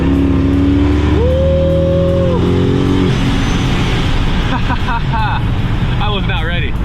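A supercharged Coyote-swapped 2000 Ford F150 XLT with about 650 horsepower accelerates hard on a slightly wet road, tires spinning, its engine note climbing and then holding loud and close before excited voices break in near the end.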